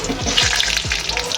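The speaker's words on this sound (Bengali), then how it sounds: "সর্ষের তেল মধ্যে কাঁচা লঙ্কা ফোড়ন দেওয়ার পর রাঁধুনি ফোড়ন দিয়েছি, আর এই দেবো কালো জিরে আর রাঁধুনি।" Kalo jeera and radhuni spices sizzling loudly in hot mustard oil with green chili, a steady close crackling fry with a few soft stirring scrapes.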